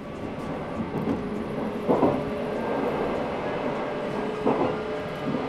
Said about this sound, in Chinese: 那么我们回到 Sunrise 列车里面